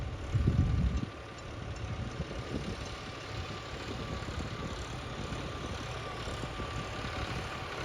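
A tractor engine pulling a laser land leveller through a field runs at a steady, moderate idle-like drone, with a brief heavier low thump at the start before settling into an even hum.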